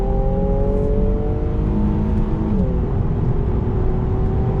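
A 2019 Infiniti Q60 Red Sport 400 with a seven-speed automatic in Sport Plus mode accelerates hard from inside the cabin, its engine note climbing steadily with a brief dip and recovery partway through as it shifts.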